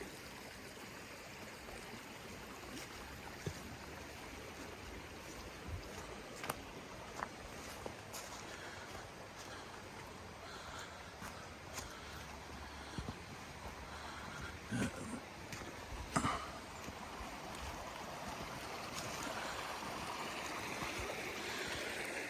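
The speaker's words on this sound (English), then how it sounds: "you can really appreciate the creek coming out of the pond." A creek flowing out of a pond runs steadily with a soft, continuous rushing and trickling, with a few faint knocks and clicks scattered over it.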